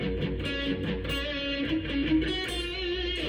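Distorted electric guitar plays a pedal-tone riff, a fast chugging pattern of repeated low notes alternating with higher fretted ones, steady and moderately quiet throughout.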